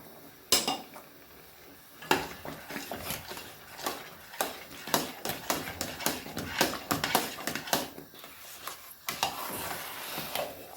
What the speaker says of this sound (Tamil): சட்டியில் ஒட்டாத பதம் வர வரைக்கும் நல்லா மிக்ஸ் பண்ணிக்கணும்